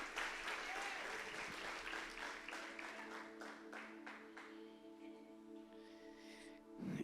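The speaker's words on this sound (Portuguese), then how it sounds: "Aplauda com força." A church congregation bursts into applause, many hands clapping quickly at first and then thinning out, followed by a lingering sustained tone.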